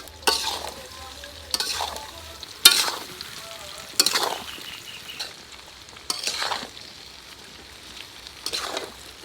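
Mango pieces frying in hot oil for a Bengali mango pickle, a steady sizzle broken by repeated bursts of stirring and scraping roughly every one to two seconds, close and moderately loud with no talk.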